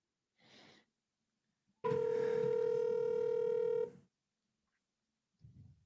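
A telephone call begins with a single steady tone lasting about two seconds, loud and close, framed by brief quiet rustles before and after.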